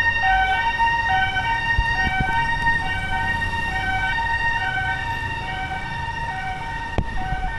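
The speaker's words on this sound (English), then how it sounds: "There's an ambulance." Ambulance siren on a busy Nairobi street beneath the highway, a loud sustained wailing tone that runs throughout over the rumble of road traffic, with a couple of faint knocks.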